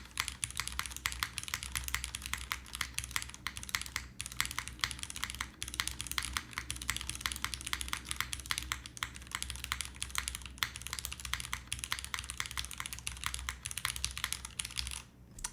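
Rapid, steady typing on a Join65 mechanical keyboard with a non-flex cut PCB and a foamy sound signature, dense soft clacks close up and fairly quiet, with no talking.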